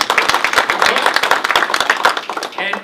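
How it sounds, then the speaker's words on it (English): A crowd applauds at a retirement ceremony with brisk, loud clapping close by that fades near the end as a voice comes in. "So how about a round of applause for Anita?"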